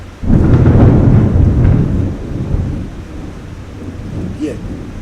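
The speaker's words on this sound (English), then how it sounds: "This storm is right on time." Thunderstorm with a loud crack of thunder opening into a long rolling rumble that slowly fades, over steady rain, fairly close, with a faint voice briefly at the end.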